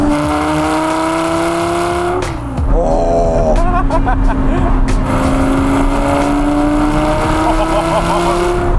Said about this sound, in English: I think it could be time to listen to some exhaust